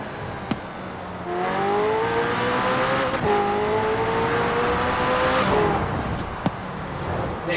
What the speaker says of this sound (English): you can hear the turbo sucking the air in, and you can just hear that big explosion of the flame from the back of the car